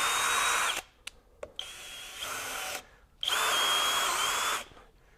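A Kobalt KHD124 24V brushless drill drives and countersinks a screw in three close, loud whirring bursts with a high motor whine, separated by short pauses and a few sharp clicks.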